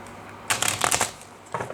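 Tarot cards are shuffled by hand during a reading, with a loud, close burst of riffling and slapping cards followed by a pause and then a second, shorter flurry. No one speaks.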